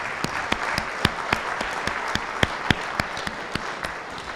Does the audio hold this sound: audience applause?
yes